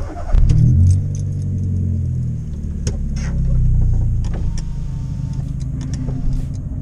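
A Volkswagen Gol 1.6 prepared for trackday hums low and steady at close range while slowly maneuvered, with faint clinks and light rattles over the rumble.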